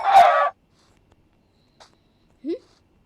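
Chickens in the video game Minecraft give a short, loud clucking burst at the start, then two faint, brief clucks follow after a quiet pause.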